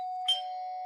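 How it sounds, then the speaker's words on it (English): A single doorbell chime strikes once, clear and close, over a steady electronic hum, with no talking. "is that your doorbell again?"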